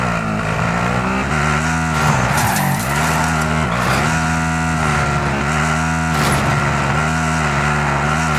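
A car in a battle royale video game drives along with a loud, steady engine roar, broken by several sharp tire skids and squeals close up.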